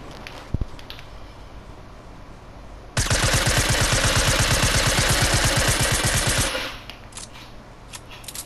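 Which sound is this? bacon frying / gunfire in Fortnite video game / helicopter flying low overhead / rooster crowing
gunfire in Fortnite video game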